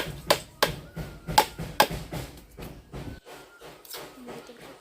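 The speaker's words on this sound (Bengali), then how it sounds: "নারকেল দেওয়া হয়ে গেছে, এবার ফাটিয়ে জলটা বের করে নেব।" A coconut is struck to crack it open and drain its water: four sharp, close knocks in quick succession, followed by quieter handling noises.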